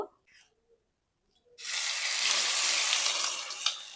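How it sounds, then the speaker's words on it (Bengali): Ground green peas hit hot mustard oil in a kadai after a near-silent pause, starting a loud, sustained sizzle and hiss that continues to the end. "তেলটা গরম হয়ে গেছে ওর মধ্যে বেটে রাখা কড়াইশুটি দিয়ে দেব"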